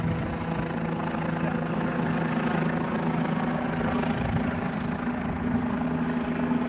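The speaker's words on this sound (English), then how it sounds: "And that helicopter is keeping an eye on that right here." A helicopter's steady rotor drone fills the air continuously over a wildfire, loud and close, with a strong low hum and no voices.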